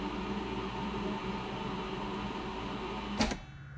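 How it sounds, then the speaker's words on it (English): Starter motor of a barn-find 1982 DeLorean DMC-12 freewheeling without engaging the engine, a steady whirring hum that ends with a short sharp clack and a fading spin-down. "it was the sound of the starter down here just kind of freewheeling"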